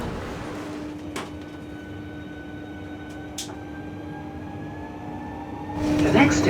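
Riding aboard a Javelin high-speed train, a steady rolling rumble with a faint whine and occasional clunks and knocks, growing louder near the end.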